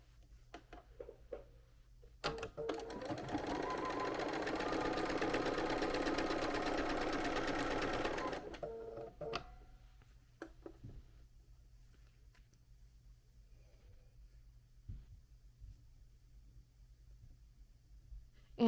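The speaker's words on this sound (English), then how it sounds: "So now we're going to work on sewing them together as there are corner units." A sewing machine stitches quilt block corner units together in one steady whirring run of about six seconds, close and clear, followed by quiet handling of fabric.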